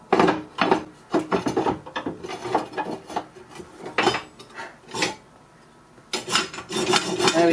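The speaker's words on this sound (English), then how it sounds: "You pull that in and out and it spins that around and shakes all the coal dust down." Repeated metallic rattling and clanking in uneven bursts as the riddle grate of a Morso Squirrel multi-fuel stove is shaken back and forth, close by with brief pauses between strokes.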